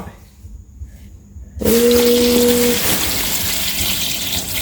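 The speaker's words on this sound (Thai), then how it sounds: "ใส่น้ำแช่ข้าว" Rice-soaking water gushes steadily into a dressing of sugar, salt and MSG for fermented khan chong vegetables. A quiet stretch gives way to the pour about a third of the way in, and it continues loud to the end with a faint whistling tone early on.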